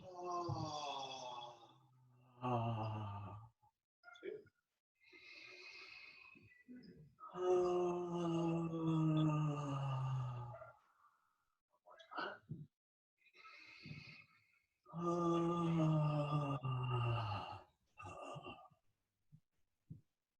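A voice exhales with a drawn-out breathy ha sound several times during a Shaolin breathing exercise, the repeated voiced breaths separated by short pauses.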